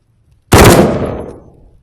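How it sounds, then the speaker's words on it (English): A 3-shot burst from a weapon with a green laser sight in the VR horror game Maleficence, heard as one loud, sharp onset that rolls into a decaying rattle and fades over about a second, with no talk. "Do a 3-shot burst"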